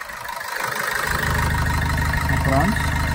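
A 2017 Maruti Suzuki Vitara Brezza ZDI+ diesel engine idles with a steady low throb that settles after starting, close up and loud, with a voice speaking briefly over it.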